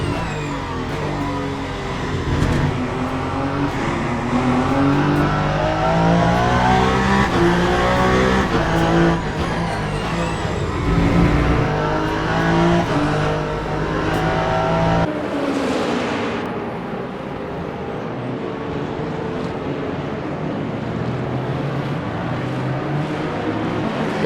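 A race car in Le Mans Ultimate at the 8 Hours of Bahrain braking early into turn 1: a loud engine note rises and falls through downshifts under braking, then continues as a quieter, steadier drone for the last third.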